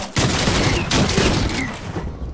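Shotgun blasts in the Fortnite video game, arena mode: a few loud, booming shots in quick succession over busy game noise, close and dense.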